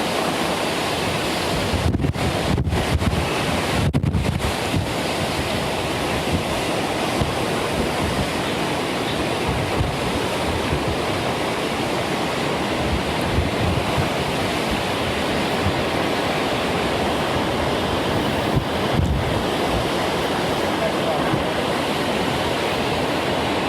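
Hurricane Michael's roaring wind and pounding surf on the beach at landfall, a loud, unbroken wall of rushing noise with heavy microphone buffeting throughout and a few sharper gusts.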